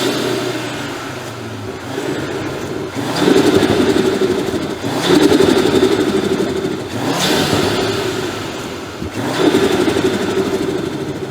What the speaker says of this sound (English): The air intake has made such a huge difference. Honestly, the turbo noises were absolutely needed.